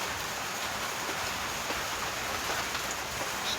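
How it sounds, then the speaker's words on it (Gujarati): Steady rain pours down in a village, a dense, even hiss of drops striking surfaces, continuous and fairly loud with no voices. "વરસાદ પણ ચાલુ જ થતો છે."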